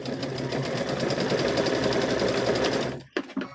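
A sewing machine stitches a hummingbird and butterfly quilt block, running in a steady continuous whir for about three seconds before stopping abruptly, followed by a couple of brief clicks.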